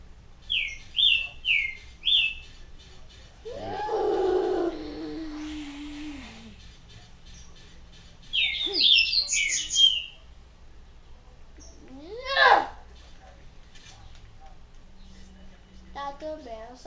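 Short bird chirps and tweets in Resident Evil 4 come in small bursts at the start and again midway, with a brief higher call later, over quiet game ambience and a low voice-like sound.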